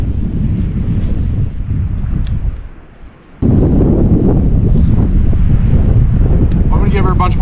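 Strong wind gusting outdoors at an alpine lake in Alberta's Rocky Mountains, buffeting the microphone in a loud, steady roar that dips briefly, then surges back just as hard.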